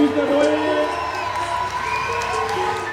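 An audience at a Buffy-themed interview event cheers and whoops with applause, a loud, continuous crowd roar with excited high voices.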